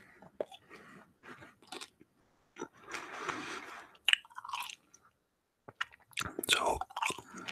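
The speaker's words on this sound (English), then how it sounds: "I'm gonna chew some gum, like not that loud, and blow some bubbles." Close, quiet gum chewing in an ASMR setting, with wet smacking bursts and short pauses between chews, intimate and near with no talk.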